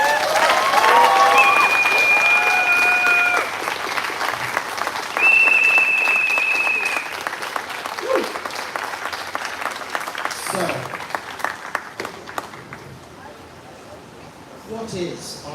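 A crowd at an outdoor Pride vigil claps in sustained applause with whistles and cheers, swelling at first and then tapering to scattered claps as a speaker's voice returns.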